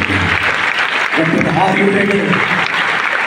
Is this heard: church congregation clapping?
yes